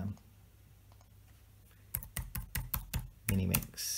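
Keystrokes on a computer keyboard, quick clustered clicks in short bursts of rapid typing after a couple of seconds of low room hum, close and fairly crisp.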